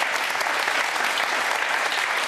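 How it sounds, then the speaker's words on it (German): Steady, dense applause from a studio audience at a Sky TV broadcast featuring a tug-of-war club, filling the whole moment evenly without any voices over it. "Erstmal ein kleiner Applaus für euch."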